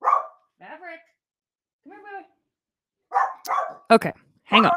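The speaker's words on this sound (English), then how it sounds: "Leave it to a dog to bark." A dog barks several times close by, a short burst of sharp barks toward the end after quieter whimpering sounds, with someone speaking to it in between.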